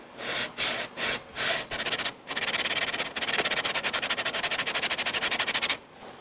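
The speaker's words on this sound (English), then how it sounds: "All right, I've been sanding on this for a couple minutes now." Hand sanding on a Kohler engine block surface, a raspy scraping in strokes, first a few separate passes, then a long fast run of quick back-and-forth rubs, close and steady with no talk.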